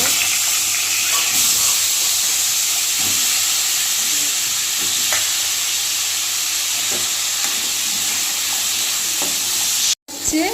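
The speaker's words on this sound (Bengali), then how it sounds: "মাছ ভাজা করাতে এখন আলুগুলো ভেজে নেব" Cut potato chunks fry in hot oil left from frying fish, giving a steady loud sizzle with occasional scraping and stirring knocks, and no talk over it.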